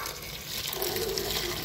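Hot water pours steadily into a pot while oranges are prepared for jam, a close, continuous splashing gush with no talk.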